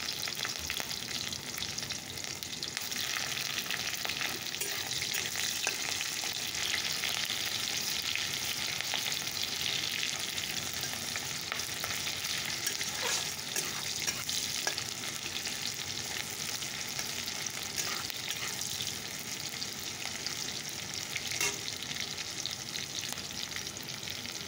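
Hot oil sizzles steadily in a wok as chopped roti fries with green chili, onion and nigella seeds, a dense continuous crackle with occasional stirring and no voices.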